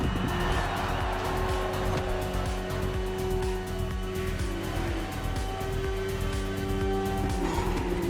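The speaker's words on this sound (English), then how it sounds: "The one you're riding is the S1000RR. It's what we call a superbike." A BMW S1000RR superbike engine in the racing game The Crew Motorfest roars at sustained high revs, loud and continuous with smooth shifts in pitch and no talk.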